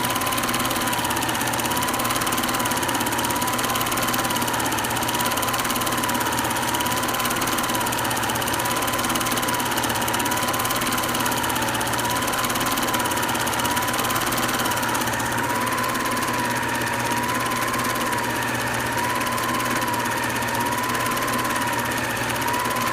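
A Vigorelli sewing machine runs continuously at a tight stitch length, a loud, even mechanical whir with a rapid regular pulse, steady throughout with no talking.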